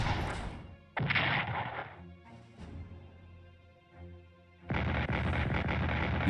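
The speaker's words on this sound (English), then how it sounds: "Defensive artillery firing on the Germans, which did absolutely nothing." Defensive artillery firing in the Strategic Command WW1 strategy game: a series of loud, sharp booming shots with ringing tails, separated by short gaps, the last blast the heaviest and longest.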